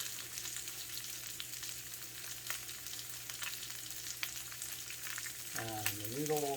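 Onions stir-fry in a half-filled wok for three sauce noodles, a steady close sizzle and crackle with the scrape of stirring, and a brief rising squeak of metal near the end.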